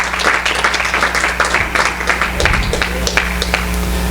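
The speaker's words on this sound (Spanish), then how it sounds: "Denle un aplauso al Señor" A church congregation claps continuously, a dense steady applause filling the space without pause.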